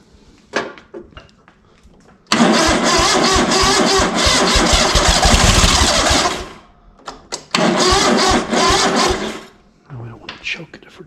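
A ZT200 engine, suffering from a fuel supply problem, cranks and fires into a loud, roaring run, cuts out, then catches and runs again. Short knocks and movement sounds come between the runs, and a voice is faintly heard.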